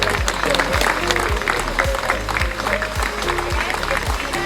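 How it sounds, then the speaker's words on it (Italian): Applause from the audience at a regional beauty pageant final in Cavarzere, Venice, continuous clapping mixed with rhythmic thumping background music and crowd noise. "un applauso, grazie"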